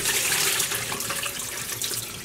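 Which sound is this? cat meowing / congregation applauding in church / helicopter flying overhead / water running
water running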